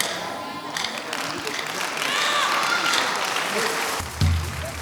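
An audience claps steadily for several seconds, swelling in the middle, with voices mixed in and a louder voice cutting in near the end.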